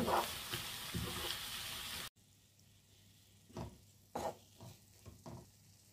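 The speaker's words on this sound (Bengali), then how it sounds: "এখন আমি তেলের সাথে একটু মিক্স করে নিয়ে পেঁয়াজ একটু সফট হওয়া পর্যন্ত অপেক্ষা করি" Onions fry in oil in a pan for a sturgeon fish egg fry, loudly sizzling for about two seconds before it turns much quieter, with a few sharp stirring clatters against the pan; no speech.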